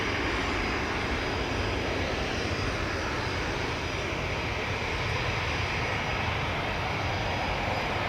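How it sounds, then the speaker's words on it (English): A TUI Boeing Dreamliner departs Newcastle International Airport, its jet engines producing a loud, steady broadband roar that holds evenly throughout without any voices. "The TUI Dreamliner just departing as well"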